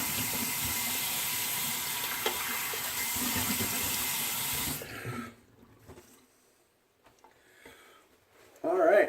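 Tap water runs steadily into a sink for rinsing after a shave with a Sedef shavette, then shuts off around the midpoint, leaving quiet handling sounds and a brief splash near the end.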